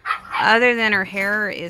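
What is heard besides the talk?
dogs barking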